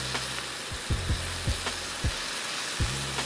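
Vegetables sizzle and simmer in butter in a pan, giving a steady crackle punctuated by several soft knocks, like a utensil stirring or tapping the pan. Close and moderately loud, with no talk.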